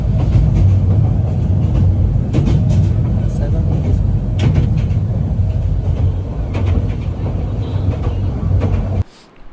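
Loud, steady rumble inside the Suborna Express, a non-stop train from Chattogram to Dhaka, heard near Feni, with faint rhythmic clatter over the rails. The noise drops abruptly near the end.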